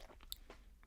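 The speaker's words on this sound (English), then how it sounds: "Hold on, just still chewing." Someone chews cheese sticks close to the microphone, soft crunchy bites and mouth sounds, faint and brief.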